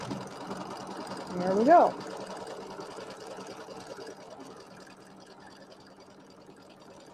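Embroidery machine stitching the batting tack-down line on a quilt border, a steady mechanical whirr with a brief louder swell, running under a voice speaking close by.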